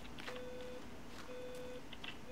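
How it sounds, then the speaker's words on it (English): An alarm beeping during play of the video game The Forest, two steady sustained electronic tones separated by a pause, faint beneath a constant hiss of game ambience. "My alarm is going off right now."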